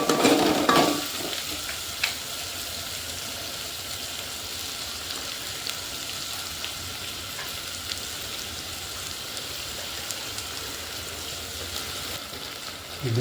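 Onions frying in a hot pan, a continuous bright sizzle with occasional scrapes of stirring, close and steady and not under any talk.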